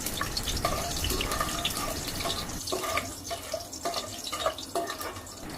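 Garlic dropped into hot oil already used for frying urad dal vadiyalu sizzles steadily, a close, continuous hiss and crackle with small popping bursts and no talking.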